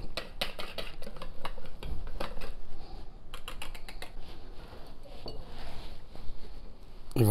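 Baking powder being folded into rolled cake batter for a condensed-milk dulce de leche and coconut roll, heard as a steady run of spoon and bowl clinks and scrapes, close and continuous, with no talk.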